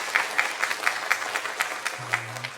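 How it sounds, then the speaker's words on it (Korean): Church congregation clapping hands in a steady, fairly slow rhythm, sounding somewhat distant, with a low hum entering near the end. "박수 한번 치세요."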